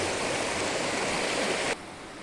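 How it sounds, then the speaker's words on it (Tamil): A waterfall on the route toward Yercaud makes a steady, dense rushing roar that cuts off sharply to a quieter wash near the end. "நீர்வீழ்ச்சினா பாருங்க எவ்வளோ அழகாக இருக்கு"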